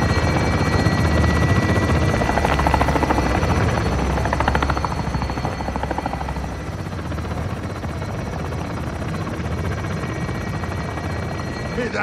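A helicopter in Call of Duty: Modern Warfare II thrums steadily and loudly throughout, its rotor chop holding at a constant nearby drone.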